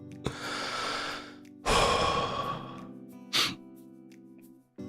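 A few breathy, muffled bursts close up, like someone stifling a cough, with quick exhales between them.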